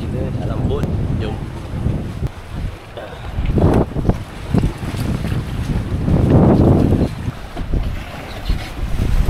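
Small boat on the open sea off Semporna, Malaysia, its engine rumbling low under heavy wind buffeting the microphone, with water splashing against the hull and swelling surges; a few voices talk faintly in places.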